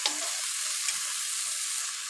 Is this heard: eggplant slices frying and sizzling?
yes